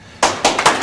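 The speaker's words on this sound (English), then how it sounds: "I always clap for myself just in case nobody else will clap" A man, a former mayor and lieutenant governor of Ohio appearing as a talk-show guest, claps for himself: four sharp, close hand claps in quick succession, loud and alone with no other applause.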